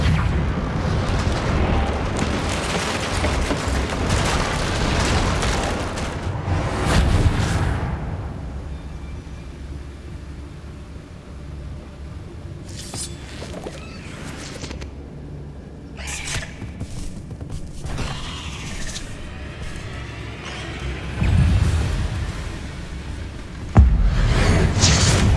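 Bombarda blasting spell explosions in the wizarding game Hogwarts Legacy, several booming bursts scattered through the stretch, with rumbling debris between the loud hits.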